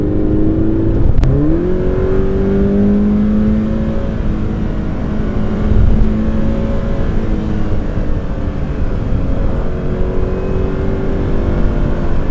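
A Toyota FRS/86 sports car climbs a steep hill, its engine droning steadily from inside the cabin with a quick rev shift near the start and a sustained throaty pull under load, no talk.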